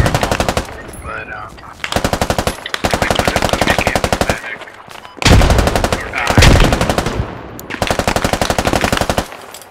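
Sustained automatic gunfire in the military shooter Squad, long rapid bursts of rounds broken by short gaps, loud and close, with a voice briefly heard amid the shooting.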